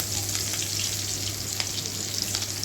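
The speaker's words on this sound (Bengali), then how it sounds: "এবারে অল্প সামান্য গোটা জিরে আর তেজপাতা দিয়ে সেটা ভাজা হয়ে এলে তাতে পেঁয়াজ কুচি দিয়ে দেব।" Whole cumin, bay leaf and chopped onion frying in hot oil in a pan, a soft, steady sizzle with light stirring scrapes, close and fairly quiet, with no speech.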